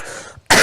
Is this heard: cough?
yes